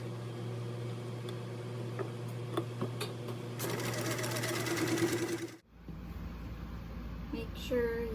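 A sewing machine stay-stitches fabric for a flowy summer top, a steady rapid whirring stitch that runs for several seconds, then stops abruptly, leaving quieter room sound.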